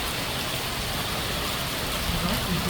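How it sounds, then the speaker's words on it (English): Heavy summer rainstorm pours in a dense, loud, continuous roar of rain on surfaces, steady throughout with no voices. "You'd fill the barrel on a storm like this just within a few minutes."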